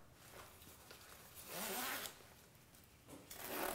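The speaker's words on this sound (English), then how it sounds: "Insert the other row of zipper teeth and zip it up." A clothing zipper is zipped up after its teeth are inserted during a repair, producing several close, raspy zipping strokes of varying length with short pauses between them.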